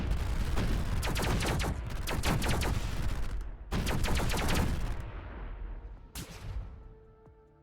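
Basic spaceship cannons firing in the video game Sublight, a dense run of rapid, punchy shots in overlapping bursts that thin out, with a final short volley near the end.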